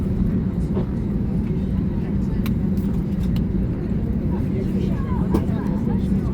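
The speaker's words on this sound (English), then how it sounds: "Gonna push back now." A Jet2 Airbus A321 airliner at Manchester Airport hums with a steady low engine and ground-equipment drone during pushback, heard from inside the cabin, with faint clicks and a voice talking over it.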